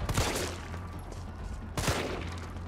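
Gunfire from the shooting tutorial of Resident Evil 3 Remake: two loud game gunshot bursts about a second and a half apart, each with a sharp crack and a fading tail over a low rumbling background.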